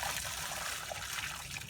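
Dish rinse water from a campsite wash pot poured out onto the ground, a steady close splashing trickle lasting a couple of seconds.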